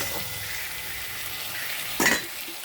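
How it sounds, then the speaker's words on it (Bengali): Fried lentil dumplings (bori) are tossed in a hot pan with salt, turmeric and jaggery, producing a brief steady sizzle with soft stirring scrapes and one louder clatter near the end, heard alone. "এবার এই ভেজে রাখা বড়িগুলো এতে দিয়ে দিচ্ছি, দিয়ে একটুখানি কষে নিয়ে জল দেবো।"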